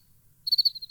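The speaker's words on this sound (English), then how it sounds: "Crickets." Crickets chirp in a short, steady pulsing series of high, clear trills that start abruptly after a moment of near silence, used as a sound effect.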